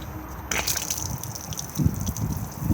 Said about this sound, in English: So basically when you want to drain off your fresh tank for winterization